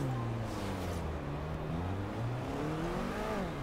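A car engine in Forza Horizon 2 revs hard at a launch with the throttle pushed fully down, a steady loud droning whine that rises and falls in pitch, with no other sounds.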